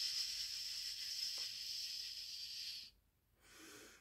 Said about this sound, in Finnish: Ja sitten suhistaan.